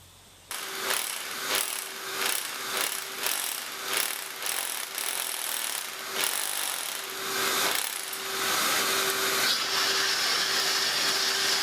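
A power drill runs in bursts with short pauses, then holds a steady whine, while an engine lathe is being installed and levelled in a workshop; the drilling is loud and close with no talk.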